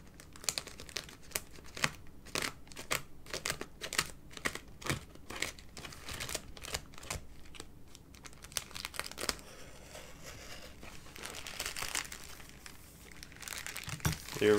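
Cardboard packaging of a Massdrop x Zslane Mercury Rocketeer mechanical keyboard box being cut open, with dense crinkling and tearing sounds in quick irregular bursts, close and fairly loud, with no talking.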